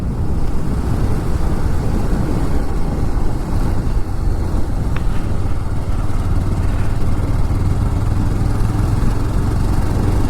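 Motorcycle ride along a hilly road near the Purulia dams, the engine's steady drone mixed with heavy wind buffeting the microphone throughout, loud and continuous with no break.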